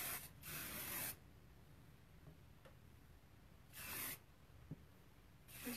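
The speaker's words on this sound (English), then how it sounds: "Let's go in on this side and spray it." Two bursts of hairspray hiss onto curled hair, about a second and a half-second long, with quiet pauses between and a small click near the end.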